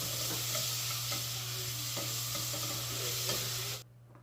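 Chopped tomatoes with ginger garlic paste sizzle steadily in a pan, with occasional soft scrapes of stirring, then the sound cuts off abruptly near the end.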